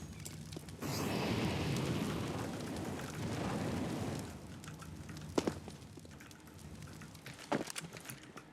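A molotov incendiary grenade in CSGO lands and bursts into a roaring, crackling whoosh of fire for a few seconds, then fades to a low burn with a few scattered thuds and footsteps.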